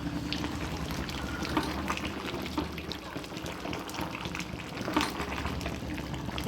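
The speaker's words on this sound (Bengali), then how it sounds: "এবার একটুখানি নাড়া দিয়ে দিচ্ছি দেখো" Shukto, a Bengali vegetable curry made with a generous amount of ghee, is stirred in a pan on the gas; a steady close wash of bubbling and sizzling with faint scraping runs throughout, with no voices.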